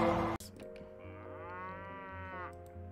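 A cow in a video game lets out a long, drawn-out moo with a rising, wavering tone, clear and close against a quiet background, preceded by a brief sharp sound.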